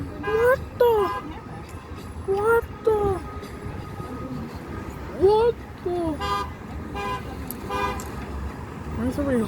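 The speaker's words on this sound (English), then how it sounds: "Where's everybody honking?" Several vehicle horns honk in repeated toots near an airport roadside, loud and overlapping, with excited voices talking over them.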